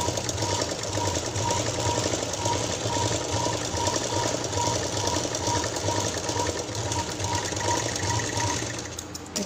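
A sewing machine stitches a plastic sheet pouch for a school exam bag, running close and steady with a fast, even mechanical rhythm that holds without pause before easing slightly at the end.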